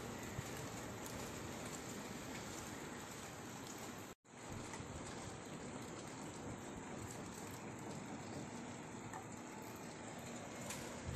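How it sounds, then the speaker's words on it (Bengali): Rain falls in Pune as a quiet, even wash of noise that runs continuously, broken only by a brief dropout partway through. "বৃষ্টি হচ্ছে, বৃষ্টি দৌড়াচ্ছে।"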